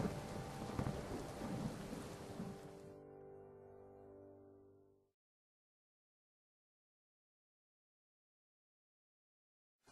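Rain and rolling thunder from a stormy night scene, a dense, rumbling wash for about five seconds that then cuts to near silence.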